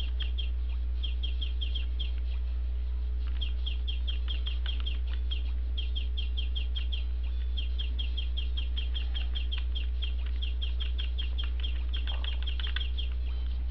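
A hen clucks in repeated short bursts over about fourteen seconds, moderately close, with rapid clucking runs separated by brief pauses against a steady low hum and no speech.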